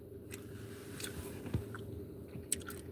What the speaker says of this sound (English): chew your gum harder